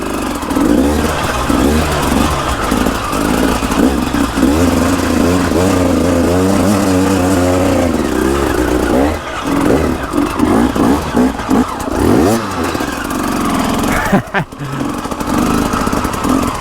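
A motorcycle engine revs and strains hard and close on a steep, rocky hill climb near old mines, pitch rising and falling steadily with throttle changes, with a brief sharp break near the end.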